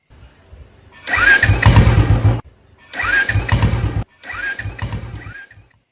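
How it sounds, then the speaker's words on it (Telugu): A motorcycle is kick-started three times in a row and never catches. Each attempt is a loud, close burst of cranking of about a second, with short pauses between. "ఏంటి బైక్ స్టార్ట్ అవ్వడం లేదా?"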